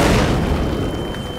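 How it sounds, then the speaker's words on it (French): A theatre sound effect of an artillery shell exploding: one deep, heavy boom at the start that rumbles and slowly decays over about a second. "l'obus a éclaté."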